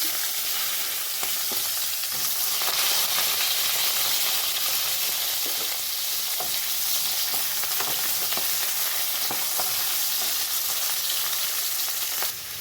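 Potato, eggplant and lentil dumplings fry with a green chili in hot oil, a continuous crackling sizzle close by, broken by light scraping and stirring clicks over several seconds.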